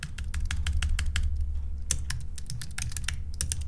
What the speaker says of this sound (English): now you could just type in an exception